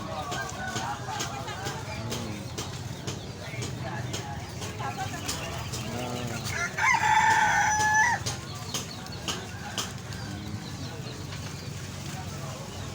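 Chickens and roosters at a traditional Javanese livestock market, clucking and a brief crow amid a busy crowd, with people talking nearby throughout.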